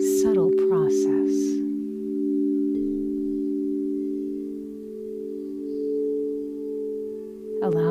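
Crystal singing bowls tuned to 432 Hz give a steady, sustained low hum with layered, slowly beating tones that hold throughout. Soft breathy talk sits over the start and the end.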